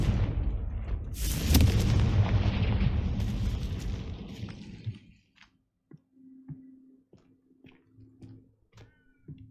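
A fire-blast spell from the Hogwarts Legacy video game bursts loudly near the start, a rumbling explosive roar that trails off over several seconds, followed by quiet scattered clicks and faint background tones.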